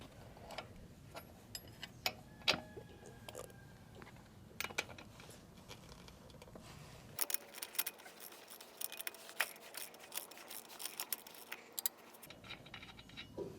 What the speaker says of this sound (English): we're going to take our 3/4-inch socket and ratchet and our 3/4-inch wrench